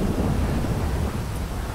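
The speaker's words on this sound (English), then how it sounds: "It's raining" Heavy rain hisses steadily, with rolling thunder rumbling loudly underneath, in a thunderstorm in the video game GTA V. It is a continuous, dense wash of sound with no voices.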